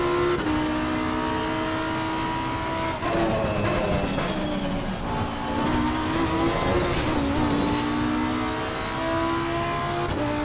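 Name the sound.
race car engine in video game Assetto Corsa Competizione, Huracan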